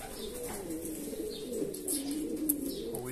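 A male homing pigeon coos in a steady, low, rolling murmur that runs the whole time, fairly close, with faint outdoor background and no talking.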